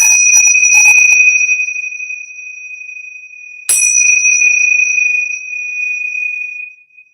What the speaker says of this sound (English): So I'm going to ring this bell 3 times.